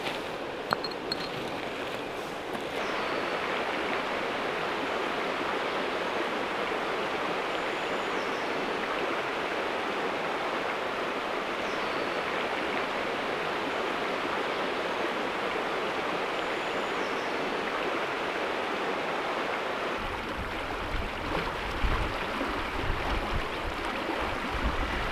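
Steady broadband rush of river water flowing, close and continuous, at a Scottish river during mudlarking, with a brief change in texture near the end.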